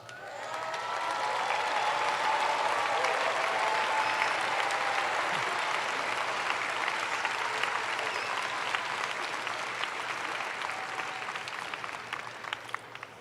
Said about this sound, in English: Please stand to accept our applause.